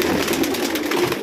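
Pigeons coo in a soft, repeated rolling murmur, fairly close and continuous, with no talking over them.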